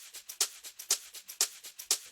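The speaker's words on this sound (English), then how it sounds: "And I added a top loop." A bright Afro house percussion top loop, mostly crisp high-end hits in a quick repeating groove with a sharper accent roughly every half second, fairly quiet and with no voice.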